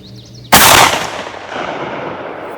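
A 12 gauge muzzleloader loaded with 5.5 ounce socket slugs fires a single loud, sharp shot outdoors at a 42-yard range, its boom dying into a long rolling echo.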